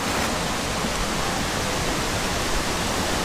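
Oylat Waterfall near İnegöl roars steadily and loudly throughout, a dense unbroken rush of falling water close by with no talk over it.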